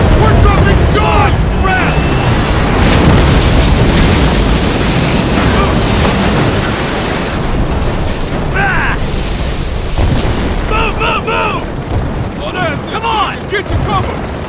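Heavy flak explosions in Killzone 2 roar continuously, loud and close, over wind-like rumble and engine noise, with shouted voices cutting in briefly toward the end.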